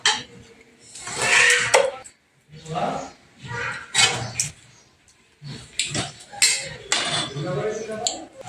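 Cooked khichuri, a rice-and-lentil dish, being served onto a plate, with spoon and dish clinks and scrapes coming in irregular bursts while a person talks over them.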